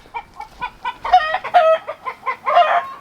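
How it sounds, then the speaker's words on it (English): An agitated rooster clucks and squawks in a rapid, uneven series of loud, close calls, a few stretched into short crowing bursts, with no voices. "We have an unhappy rooster here."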